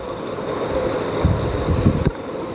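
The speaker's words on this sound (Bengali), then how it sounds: "ট্রেন এসে পড়েছে, এখনই ট্রেনে উঠবো।" A metro rail train pulling into a station, a steady rumble with wind-like rushing and a few louder thumps near the end, fairly close and continuous with no talking.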